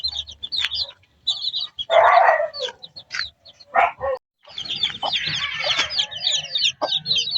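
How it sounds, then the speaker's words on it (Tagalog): Chickens cluck and crow close by on a backyard farm as newly hatched chicks peep in high, rapid chirps. The birds call in uneven bursts with brief pauses and a faint dog-like bark. "Ito na nga yung mga sisiw na galing dito sa rep."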